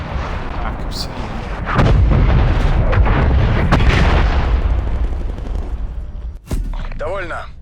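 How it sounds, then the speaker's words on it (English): Incoming artillery fire in Call of Duty Cold War: a dense, continuous barrage of booming blasts and gunfire that swells loud midway, drops briefly near the end, then resumes. A voice talks over it at times. "Hostile artillery targeting active."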